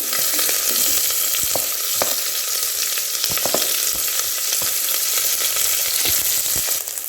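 Onions sautéing in a pan for Coimbatore-style rice and dal, a steady loud sizzle with intermittent stirring scrapes and taps, no talking.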